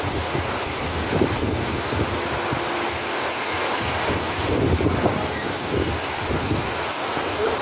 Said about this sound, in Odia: ପବନ ହେଲାଣି ପବନ ପୁରା ଜୋର ହେଉଛି